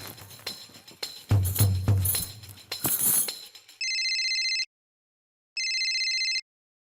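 A telephone rings during a phone call in an Indian TV comedy scene, two clear electronic ring bursts following a stretch of clinking and rustling.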